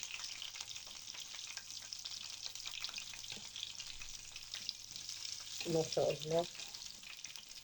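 Falafel (ta'ameya) fries in plenty of hot oil and gets turned over in the pan. A steady soft sizzle runs throughout, broken by louder bubbling and clattering as the patties are flipped, with a short spoken remark.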